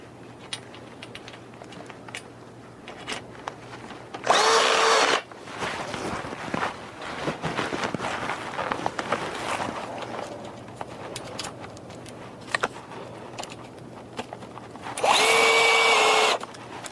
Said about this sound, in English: got to put these screws in here